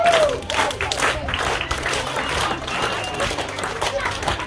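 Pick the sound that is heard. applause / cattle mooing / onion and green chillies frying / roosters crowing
applause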